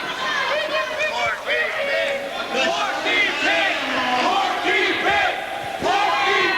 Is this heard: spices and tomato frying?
no